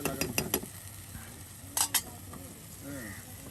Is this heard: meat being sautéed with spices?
yes